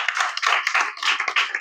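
A group of schoolchildren claps together in a classroom during a general-knowledge quiz, a dense, fairly loud patter of hand claps that continues steadily with small swells throughout.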